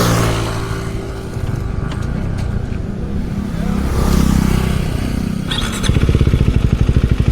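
A KTM 390 motorcycle with a clip-on exhaust being ridden, its engine droning steadily up close, then rising in a revving swell and ending in a rapid, loud, throbbing exhaust burble.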